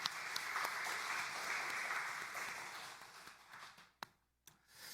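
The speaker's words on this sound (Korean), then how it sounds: "다시 한번 축복하고 격려하는 박수 하도록 합니다" Church congregation applauding together during a special early-morning prayer service, steady dense clapping that swells and holds, then tapers off near the end with a brief pause and a few final claps.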